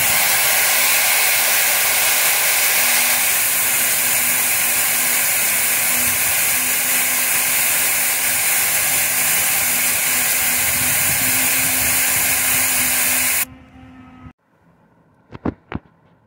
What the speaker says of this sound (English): Once I let a little bit of pressure off the tire, I went ahead and used the valve stem tool to just go ahead and take the valve stem out.